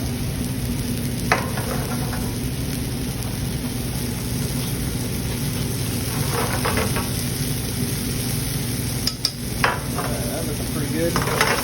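Butter sizzles steadily in a pan while a pork chop is pan-roasted, a continuous close frying hiss with occasional faint clinks and stirring noises.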